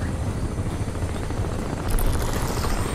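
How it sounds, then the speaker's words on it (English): Steady low thudding rotor of a helicopter in the video game Crysis Remastered, under broadband noise, growing slightly louder near the end, with no voices. "I'm hearing the helicopter."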